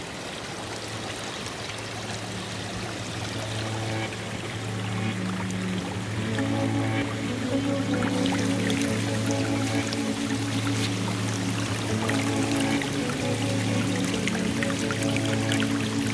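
Water sloshes and trickles steadily as river gravel is panned for gold beside a flowing river. A low engine-like drone runs underneath, and the swishing grows a little louder partway through, with no talking.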